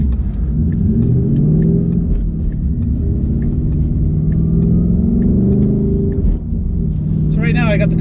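A car cruising on the autobahn in Sport Plus mode, a steady loud engine drone and road rumble throughout, with someone talking over it.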